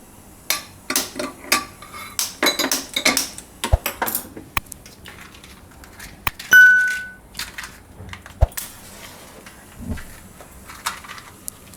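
A kadhai being handled on a home kitchen stove, giving a series of sharp metallic clanks, taps and rings at irregular intervals, fairly close, with no talking.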